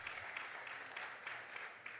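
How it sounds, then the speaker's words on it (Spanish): Applause from a church congregation during a Spanish-language sermon, a steady, fairly quiet wash of clapping with slight swells, heard alone and somewhat distant. "Dele aplauso a Cristo Jesús."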